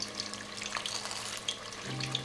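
Tofu fries in peanut oil with soft, steady sizzling and crackling, quiet and continuous with small pops scattered through it.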